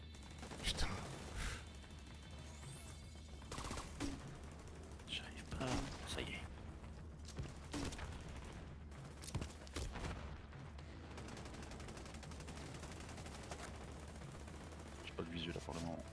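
Rapid gunfire in The Division 2, sharp shots and automatic bursts crackling at mid distance with mechanical clicks between, while players talk over the firefight.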